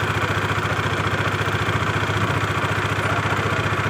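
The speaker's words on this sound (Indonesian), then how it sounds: "kalian bisa dengar ini mesin motor sudah nyala tapi roda belakang tidak" A Honda Vario scooter engine idles steadily with a fast, even mechanical throb and light clatter, heard up close and alone for a few seconds while the rear wheel stays still.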